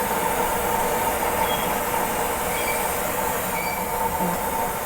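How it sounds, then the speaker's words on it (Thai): A steady, loud roaring hiss of a gas welding torch flame for aluminium welding runs continuously up close, with no voices and no change in level. "ปรับไฟลงสังเกตเวลาผมปรับไฟลงเสียง มันก็จะแผ่วลงนะครับ"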